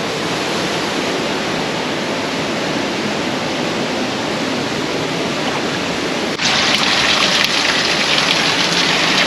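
Waterfall on a hike, a loud steady broadband rush of falling water close by that swells even louder partway through, with no voices.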